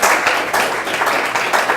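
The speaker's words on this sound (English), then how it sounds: "So let's give a round of applause for Nathan." Steady, close applause from a small group at an awards ceremony, hands clapping in a continuous rhythmic patter with no voices.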